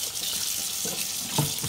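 Lukewarm tap water runs steadily into a kitchen sink as lamb for a Greek roast is rinsed, a continuous close hiss with a few brief splashy knocks near the end.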